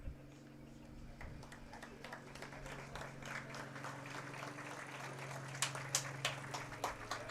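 At a high school football game between Letchworth/Warsaw and Le Roy, a crowd applauds an injured player taken off the field on a cart; scattered distant clapping rises under a steady low hum, growing sharper toward the end.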